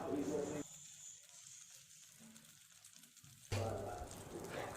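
Jaggery-sweetened paniyaram batter sizzles as it hits hot oil in a paniyaram pan. A bright hiss opens and returns strongly near the end, with a softer bubbling lull between, and no voices.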